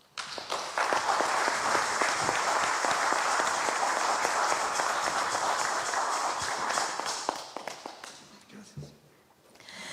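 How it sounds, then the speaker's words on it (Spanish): Sustained applause from a large lecture audience welcoming a speaker fills the room with dense, even clapping, then thins out and fades near the end. "ingeniero David Prem, a quien recibimos con un caluroso aplauso."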